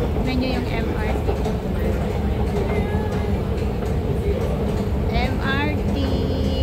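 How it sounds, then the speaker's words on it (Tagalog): An MRT train rumbles past in an urban setting: a loud, continuous, rushing roar with metallic squeals and clatter rising near the end, heard at close range throughout. "Tignan nyo yung MRT."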